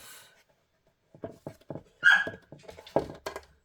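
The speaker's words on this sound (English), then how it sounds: "the dogs are going absolutely bananas" Excited household dogs bark in quick, uneven bursts, close and loud. Yelps and whines are mixed in, with short pauses between the volleys.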